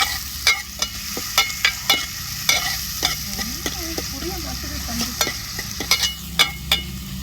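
Fish curry with tomato, green chilli, chilli powder, salt, tamarind and curry leaves is stirred in a pot on a wood-fired stove, with rhythmic scraping strokes of the spoon over a steady close sizzle and no talking.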